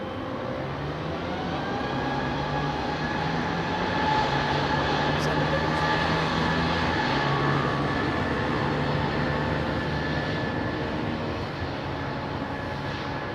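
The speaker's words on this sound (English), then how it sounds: "Josh, formerly Northwest Airlines powered Pratt & Whitney Delta 330 there in the back" A Delta Airbus A330 with Pratt & Whitney engines, formerly flown by Northwest Airlines, drones at a distance in a steady, even engine roar that holds evenly for the whole stretch, with no talk over it.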